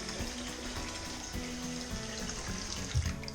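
Tap water runs steadily into a bathroom vanity sink in a 1920s Craftsman bungalow remodel, a close, continuous splashing fill with small gurgles and a soft clunk near the end.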